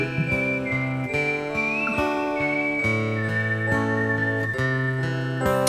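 A singer whistles a wandering melody, the pitch sliding up and down, layered over steady rhythmic music with plucked notes, during a song performance.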